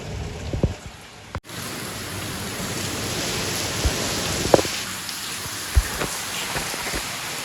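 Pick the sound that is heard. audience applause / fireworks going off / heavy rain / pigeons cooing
heavy rain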